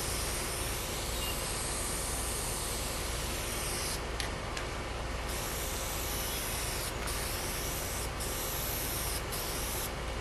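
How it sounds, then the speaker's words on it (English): Latex paint is sprayed onto a homemade skimboard, a continuous loud, close hiss lasting throughout with a few brief breaks in the spray near the end. "and then you can spray it all out"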